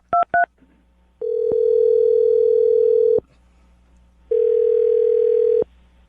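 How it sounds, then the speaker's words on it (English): A phone number dialed on a telephone: three quick keypad tones, then two long, steady ringback tones with a pause between, clear and close with no talking. "I'm going to dial the phone number right now and get her on the phone"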